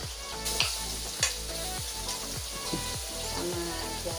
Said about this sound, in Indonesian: Ini minyaknya sudah panas. Kita masukkan bawang putihnya